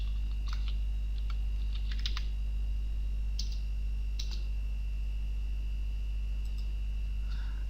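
A computer keyboard is typed on in short scattered bursts of light clicking as a new folder is named on a Windows Server 2012 machine, over a steady hum with no speech.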